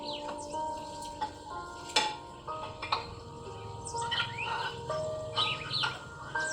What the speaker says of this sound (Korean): 이거는 음악에서 나오는 거랑 뒤에 이렇게 새소리도 날 거예요